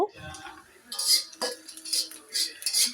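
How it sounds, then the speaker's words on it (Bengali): Chopped onion lightly frying in a pan with cardamom and a bay leaf, marked by sharp metal spoon clinks and scrapes against the pan in quick irregular bursts over a soft sizzle. "এবার হালকা একটু পেঁয়াজটাকে বেজে নিব"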